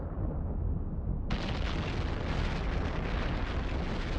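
Weapon volley and explosion in EVE Online space combat during a nullsec fight, a dense roaring blast that swells abruptly into a loud sustained rumble and crackle.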